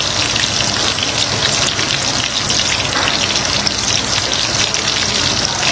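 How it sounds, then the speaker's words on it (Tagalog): Banana blossom (puso ng saging) frying in oil makes a loud, steady sizzle and crackle that carries on unbroken throughout, with no voices over it. "Luluto muna ako ng puso ng saging mga idol."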